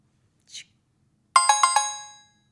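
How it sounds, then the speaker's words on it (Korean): A short soft tone, then four quick bright chimes in a row that ring out and fade, clear and close. "갑자기 알림이 쏟아진다."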